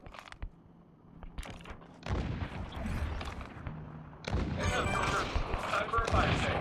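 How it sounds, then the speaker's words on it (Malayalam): Gunfire from the Call of Duty Mobile video game crackles at a distance, first as scattered faint shots, then as denser rattling bursts and booms that grow louder toward the end, with players talking over it. "ഇവിടെ ഇപ്പോഴും എന്തൊക്കെയോ വെടിയൊക്കെ കേൾക്കും."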